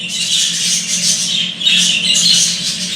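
A flock of fifteen budgerigars squawking and chattering continuously, loud and close, a dense overlapping din with a brief dip midway.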